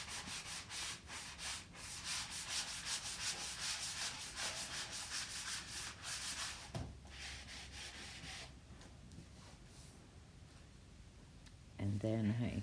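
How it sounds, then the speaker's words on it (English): Hand sanding of a wooden Christmas sign, a steady rhythmic scratchy rasp of strokes running close and loud for several seconds before easing into lighter rubbing, with a brief clunk near the end. "I'm just sanding down a little more"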